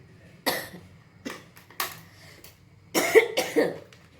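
Several sharp coughs from a person with a bad cold, a couple of isolated ones followed by a quick pair, close and fairly loud with short pauses between.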